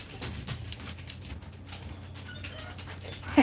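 A dog whimpers and shuffles nearby indoors, faint intermittent whines over low room noise.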